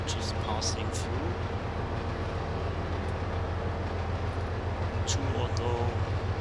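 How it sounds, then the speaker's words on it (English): Trains rolling through in the Trainz railroad simulator (TRS22), giving a steady, dense low rumble with faint clicks that runs the whole time under a speaking voice. "Almost all trains are just passing through."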